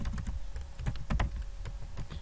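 Steady keyboard typing during a Microsoft Access programming lesson: a run of quick, uneven clicks and clacks on a computer keyboard, close and dry, with no talking.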